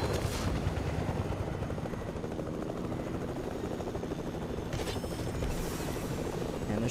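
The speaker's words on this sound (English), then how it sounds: "I'm gonna yoink this chopper and head to zone." A helicopter in the Fortnite video game gives off a constant rotor thrum and mechanical whir that runs loud and steady for the whole stretch, with brief swells of noise near the end.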